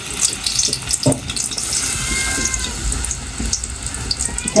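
Fish fritters fry in a pan of hot oil, giving a continuous sizzling crackle with small bursts and pops throughout, close to the listener.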